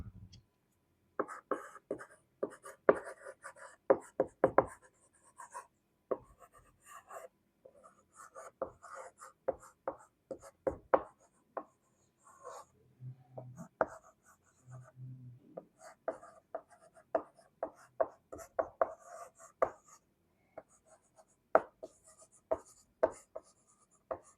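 Chalk or marker writing on a board during an electronics lecture, a steady run of short scraping strokes in bursts with pauses, close and clear, with a soft voice speaking at times between strokes.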